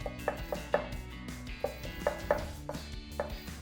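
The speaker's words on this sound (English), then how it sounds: "Give these a nice little fine chop" A knife finely chops garlic cloves on a cutting board, producing quick, close, crisp taps in an uneven rhythm, about a dozen strikes over a few seconds.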